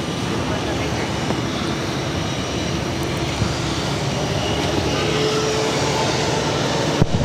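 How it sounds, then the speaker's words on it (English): JetBlue Airways Embraer E190 jet taking off at Boston Logan, a continuous broad engine roar at moderate distance, steady and building slightly, with faint radio chatter underneath. "This is JetBlue Airways 2783 taking off to Raleigh-Durham on the E190"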